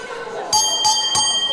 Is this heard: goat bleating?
no